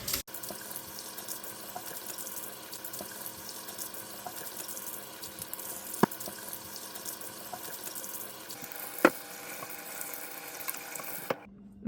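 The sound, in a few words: tap water rinsing bone dust off deer neck meat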